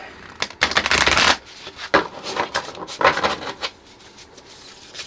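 Oracle and tarot cards being shuffled by hand, a close run of crisp riffling bursts and soft rubbing with brief pauses between, loud and free of talk.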